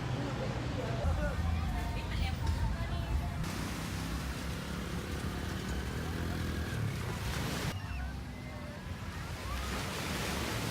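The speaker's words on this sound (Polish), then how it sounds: "Jesteśmy tutaj na Patong Beach" Surf rolls onto Patong Beach in Phuket, a constant broad wash of breaking waves with wind buffeting the microphone, while people talk over it nearby.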